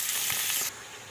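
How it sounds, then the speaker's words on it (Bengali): Chicken meat dropped onto browned onions in a hot frying pan, a loud bright sizzle for under a second that then drops abruptly to a quieter steady hiss. "পেঁয়াজটা লাল লাল হয়ে গেছে, এবার আমি মাংস দেব ওতে"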